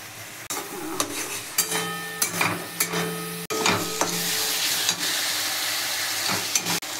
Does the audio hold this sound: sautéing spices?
yes